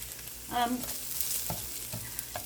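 Grated potatoes crisp in a frying pan with a steady low sizzle, broken by a few brief scrapes and clinks of a utensil moving them around.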